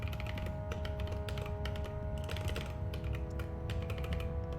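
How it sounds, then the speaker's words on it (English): Steady clatter of keystrokes on a computer keyboard, quick and irregular, close and continuous with no talking over it. "I feel like my speed typing on this keyboard is really slow."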